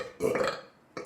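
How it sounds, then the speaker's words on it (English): A deliberate, nerdy belch bursts out loud and close for about half a second, followed by a short second croak at the end. "The nerdy belching."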